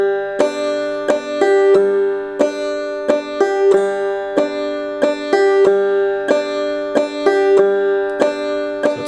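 Bright banjo notes picked in a steady, rolling clawhammer rhythm, with a repeating droning string ringing throughout, solo and close.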